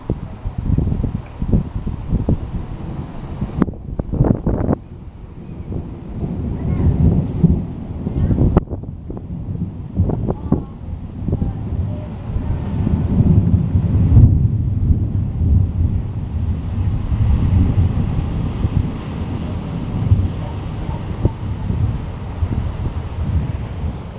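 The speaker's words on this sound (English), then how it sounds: "that's a big vapor thunder in that cloud, and the wind's actually kicking up as well" Deep rumbling thunder from a summer thunderstorm rolls through heavy wind buffeting, loud and sustained with gusty surges throughout.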